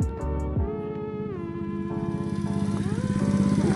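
Motorcycle engine, just refuelled and in need of repair, sputters through a few uneven starts, then runs at a steady idle with a pulsing, slightly rough rhythm, close and alone with no talk.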